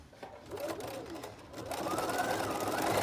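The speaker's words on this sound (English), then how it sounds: "I'm going to back stitch here" A sewing machine back stitches along the seam of a dress, its motor whirring steadily and close, rising in pitch and intensity partway through as the stitching speeds up.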